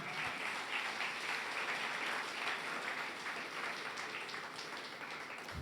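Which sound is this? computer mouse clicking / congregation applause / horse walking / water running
congregation applause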